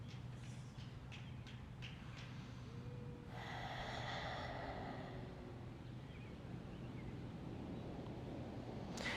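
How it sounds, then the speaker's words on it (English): A long, deep breath during a gentle yoga session, with a broad airy exhale swelling in the middle and slowly fading, close and soft against a steady low background hum. "Taking in 2 more breaths."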